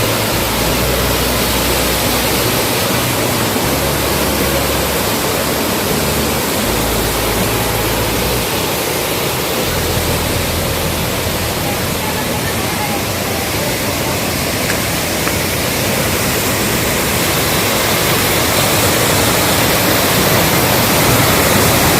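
Kumbhavurutty Falls in Achankovil, Kerala, roars continuously and loudly, a dense unbroken rush of falling water with no voices.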